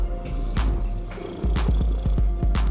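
A cat purrs in repeated low rumbling bursts over a hip hop beat, with rhythmic pulses and sharp percussive hits, moderately loud, with no talking.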